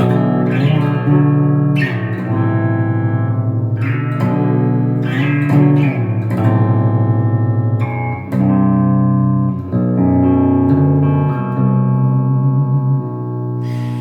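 A clean electric guitar rings out chords and single notes, each left to bloom and fade in a spacious reverb tail, loud and upfront.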